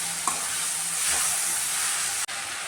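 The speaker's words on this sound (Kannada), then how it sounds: "ಇದೆಲ್ಲನೂ ಇನ್ನೊಂದು ನಿಮಿಷ ಎಲ್ಲ ಮಿಕ್ಸ್ ಮಾಡಿ ಚೆನ್ನಾಗಿ ಫ್ರೈ ಮಾಡ್ತೀನಿ" Capsicum and tomato stirred and fried in a pan, a loud close sizzle and hiss running throughout, with spatula scrapes and a sharp knock near the end, no voices.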